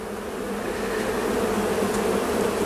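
Honeybees swarm around an open hive during a pre-winter check, producing a loud, dense, steady buzz that fills the whole moment close up, with no voices.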